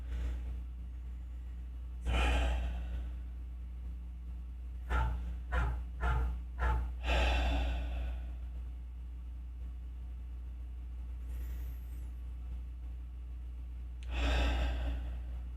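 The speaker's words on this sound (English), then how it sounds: "We started with a simple full breathing" Slow, deep breaths in and out during a beginner meditation exercise, each a long airy rush separated by quiet pauses, with a quick cluster of shorter breaths in the middle, close and clear with no talking.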